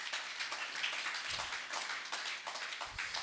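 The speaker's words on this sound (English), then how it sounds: "Please a round of applause for her, please." An audience at a branding and business networking event breaks into steady applause, dense overlapping claps filling the room at moderate volume.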